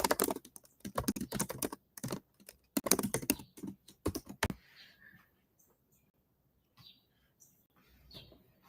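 Rapid computer keyboard typing fills the first half with dense, close, crisp clicks, then gives way to near silence with a few faint chirps.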